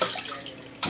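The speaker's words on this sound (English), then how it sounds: "I'm going to add a little water to it." Water pours from a tap or container into a cooking pot in a short, close splashing burst that ends with a brief louder gush.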